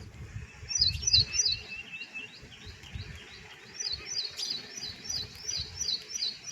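Sparrows chirp in quick, repeated bright bursts, steady and fairly close, over a low rumbling background with no talking.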